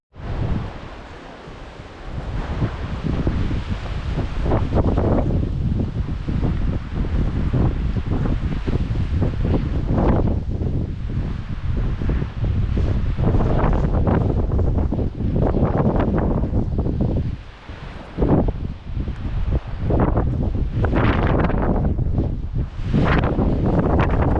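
Strong wind buffets the microphone on a mountain ridge in the Ruahine range, a loud continuous roar with surging gusts and brief lulls, no voices.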